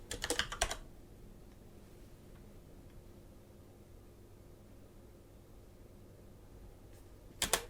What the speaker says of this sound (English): And this I will just type in